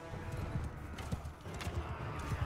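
Hooves clop steadily as a horse gallops across a Mount and Blade 2 Bannerlord battlefield, rhythmic thuds repeating under a continuous roar of fighting and ambient battle noise.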